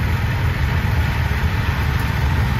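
A 1967 Cub Cadet Model 125 antique garden tractor engine idles steadily nearby at an antique tractor show, a constant low chugging drone without pauses or voices.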